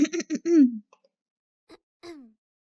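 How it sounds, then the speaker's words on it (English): A voice in a visual novel game clears her throat, a few short voiced rasping bursts, close and clear, followed by quiet and a brief murmur. "clearing her throat in obvious disapproval"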